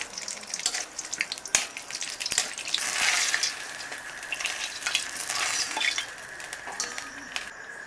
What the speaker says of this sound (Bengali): সোয়াবিনগুলো অর্ধেক করে কেটে নেওয়া হয়েছে, ভেজে নিলাম।